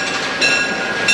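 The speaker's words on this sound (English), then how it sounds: "as the train passes through" A train passes through York, Pennsylvania with loud, close rumbling and rhythmic rail clatter over a brief moment, with no voices.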